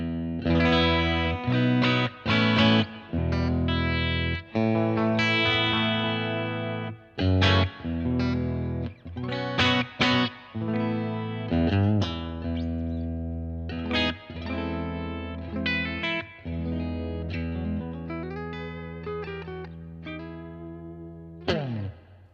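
Clean electric guitar rings through a Blackstar TV-10 amp, bright chords and single notes with a shimmering, slightly chorused sustain, played alone in clear phrases.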